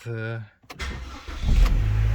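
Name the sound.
car engine starting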